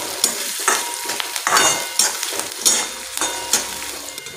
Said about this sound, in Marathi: आता आपण यामध्ये एक बारीक चिरलेला कांदा टाकूया।